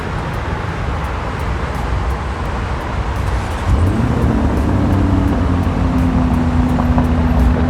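Lamborghini Urus engine starts and settles into a steady, deep idle rumble, close and loud, after a few seconds of background hiss.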